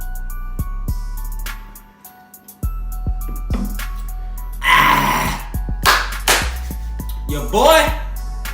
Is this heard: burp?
yes